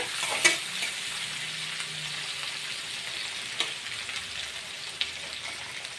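Sliced onion frying gently in a pan of oil tempered with garam masala makes a soft, even hiss throughout, with a few light taps of a spoon against the pan.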